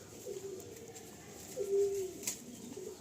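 Madrasi pigeons in a loft give a soft, low coo lasting about half a second, rising over a faint steady room hum.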